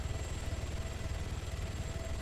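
Helicopter engine in the video game ArmA 3, a steady close rotor and turbine drone with continuous low thudding and a thin high whine, unbroken throughout.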